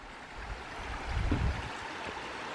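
Low, steady rushing of the River Irwin flowing at Gilsland runs throughout, swelling slightly midway, with no voices.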